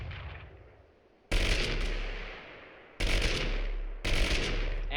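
Gunfire in the video game Totally Accurate Battlegrounds: three loud, close shots, each a sharp crack trailing into a long echoing decay, spaced irregularly over several seconds with no talk.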